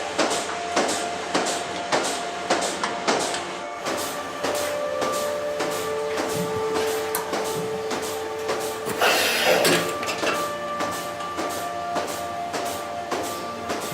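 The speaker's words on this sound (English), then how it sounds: "Then we attach the machine to the udder." Milking machine on a cow's udder at a French dairy farm, a steady rhythmic pulsing of clicks and hisses with a mechanical hum running underneath.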